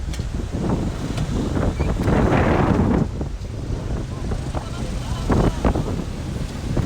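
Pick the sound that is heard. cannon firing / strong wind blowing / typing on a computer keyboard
strong wind blowing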